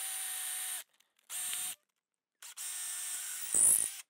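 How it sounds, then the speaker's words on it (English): A power drill whirs in several bursts drilling holes into a mango wood slab, starting and stopping with short silences between, close and loud, bogging slightly at the end. "starts by drilling a couple of holes"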